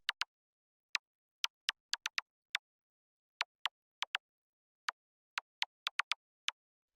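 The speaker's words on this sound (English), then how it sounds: "It's just a bit of white noise with a really short volume envelope going into a bandpass filter" Short percussive ticks of white noise shaped by a tight envelope and bandpass filter, built in Operator for atmospheric house, scattered in an irregular syncopated pattern, dry and fairly quiet, with no talking.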